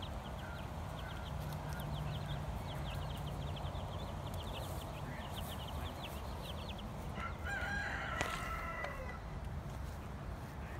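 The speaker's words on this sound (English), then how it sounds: "the rescue rooster down here in the hen house. Of course, he's being a rooster." A rooster crows at a distance inside a farm hen house, with hens clucking around it in a quiet barnyard and a low steady background hum.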